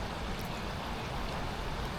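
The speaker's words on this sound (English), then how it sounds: "It's pretty cool though, seeing this spillway moving." Water rushing steadily over a spillway on a bass fishing lake, a dense continuous roar of flowing water, close and uniform throughout with no talk.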